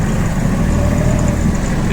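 A Kubota GL29 Japanese 4WD mini tractor with a rotary tiller, 29 hp engine running steadily under load, a loud, close, continuous low diesel rumble with a faint whine drifting above it and no talking.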